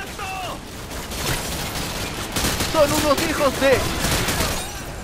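Gunfire in a Call of Duty: Modern Warfare 2 match, with scattered shots and bursts in a busy battle mix under excited talk, growing denser in the second half.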